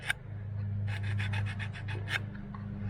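Someone scrubs a distributor cap contact on a 1980 Camaro Z28 in short, close rubbing and scraping strokes, a quick series of bursts over a low steady hum.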